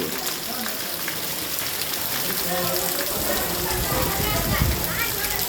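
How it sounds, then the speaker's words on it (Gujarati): Heavy rain pours down in Wankaner, a dense, steady hiss of water drumming on surfaces with floodwater rushing beneath it. Someone speaks over the downpour. "જો વાંકાનેરમાં કેટલો વરસાદ પડ્યો છે"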